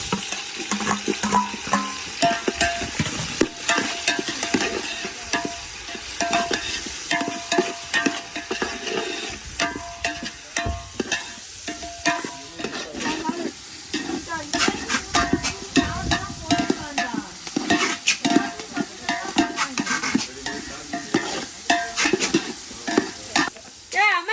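Tomatoes and onions sautéing in a pan, a continuous sizzle broken by repeated scraping, stirring strokes of a spatula, close and fairly loud throughout.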